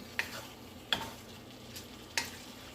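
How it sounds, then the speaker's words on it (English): A spoon stirs Cajun chicken shrimp pasta in a pot, with three sharp scraping clinks spaced about a second apart over a soft, steady sizzle of cooking. "as you're cooking, you're going to make sure that you are stirring, making sure that nothing sticks to the bottom"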